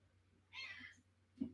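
A cat gives a soft, short meow, followed moments later by a brief low chirp, close by in a quiet room.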